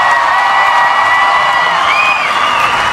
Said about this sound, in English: every bit of this applause is just for you